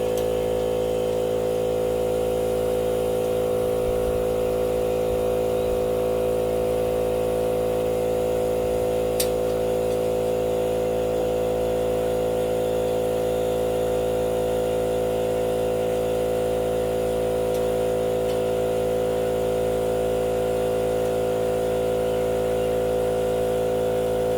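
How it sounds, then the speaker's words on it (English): An air compressor runs nonstop in a workshop with a constant, even, humming drone and steady motor whine, unchanging for the whole stretch, with no talk over it. "That air compressor, so I'll go shut that off."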